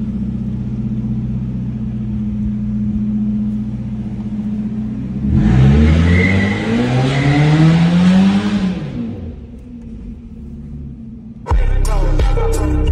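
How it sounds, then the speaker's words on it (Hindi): Modified car engine revving hard, rising and falling through several throttle blips in a loud rumbling roar, then settling back and restarting with another burst at the end, close by with no speech. "देखेंगे गाड़ी का मॉडिफिकेशन भी इस आवाज़ के लिए यार।"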